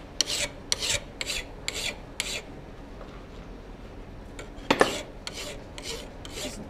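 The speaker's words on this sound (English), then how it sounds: "What I wanna start doing now is just filing" A file rasps across the edge of a hand-forged hot-cut chisel in a blacksmith shop, a run of short close strokes in a steady rhythm, a pause, then another series of strokes.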